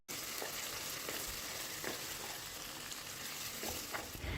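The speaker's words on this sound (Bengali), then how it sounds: "এখন এই তেলটা খুব ভালো করে গরম করে নিয়ে এর মধ্যে দিয়ে দেব তিন থেকে চারটি বড় সাইজের পেঁয়াজ কুচি" Chopped large onions hit hot oil and fry with a steady, dense sizzle that stays loud and even throughout, with a few faint stirring scrapes.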